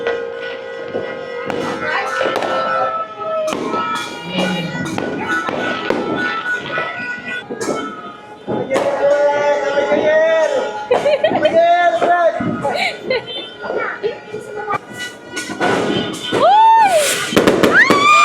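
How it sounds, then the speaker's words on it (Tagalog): New Year fireworks burst and crackle repeatedly, sharp pops spread across the whole stretch, with excited voices and shouts of a crowd mixed in throughout. "Ayan na, may fireworks!"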